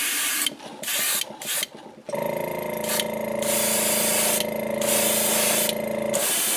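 Airbrush spraying pearl copper Createx paint onto a crawdad-pattern lure, a close, steady hiss running for several seconds after a few short bursts and clicks.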